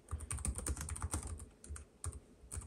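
Rapid typing on a Lenovo ThinkPad TrackPoint Keyboard II, a close, steady patter of light key clicks with a brief pause before a final few strokes.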